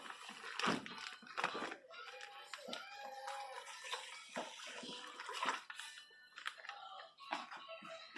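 Water is poured into a cooking pot on a stove, a liter for boiling cassava leaves, giving a splashing, gurgling pour with clinks and handling noises, fairly quiet and close.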